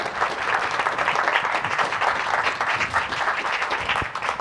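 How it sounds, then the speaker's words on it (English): Audience at an education lecture claps for guest speakers, a steady, dense round of applause filling the space with no talking over it. "please give our guests a round of applause."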